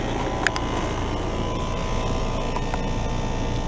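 A 2017 Trane XR14 three-ton heat pump runs in heat mode, its scroll compressor and fan motor producing a steady, close, droning hum with faint rattles and no talking.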